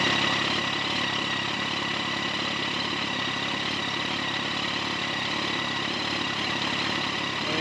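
A Yamaha FZ1 motorcycle engine idling during a service check, a steady, continuous, fairly loud mechanical hum with an even low rumble and no talking.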